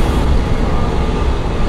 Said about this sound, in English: And an American CRJ departing.